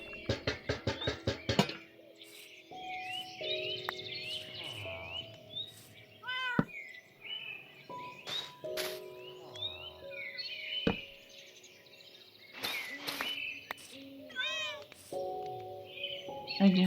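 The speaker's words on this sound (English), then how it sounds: "it's another kitty" A cat meows repeatedly in a Minecraft-style video game, several short mews spaced across the stretch, mixed with chirping bird calls, game clicks and other small effects, with no talking.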